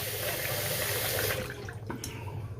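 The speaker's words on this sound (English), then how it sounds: "Wet the blade up a little bit." Tap water runs steadily to wet a King C. Gillette double edge safety razor blade, a soft continuous splashing flow that is quiet and close, with a brief dip in the middle.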